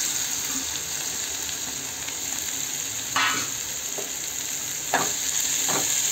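Chopped onions for a bitter gourd and onion sabji sizzle steadily in a hot pan, close and continuous, with a few louder spatula stirs and scrapes standing out over the frying.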